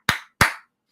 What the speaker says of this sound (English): when I clap like here, when I do that, is that like really loud and obnoxious for you guys?